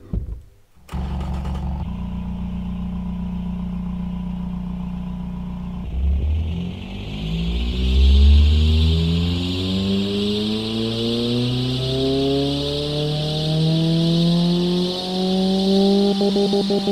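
Simulated turbocharged economy car engine in an engine simulator game, idling with a steady low drone, then revving hard and climbing through the range with a rising harmonic whine and turbo hiss, loud and close, with no voices.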